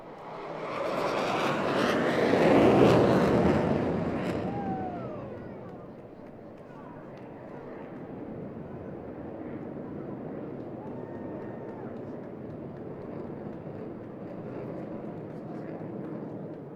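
Six airshow jets cross overhead in a head-on formation pass at a beach show, a loud broad roar swelling quickly then easing into a steady fading rumble, with crowd chatter beneath.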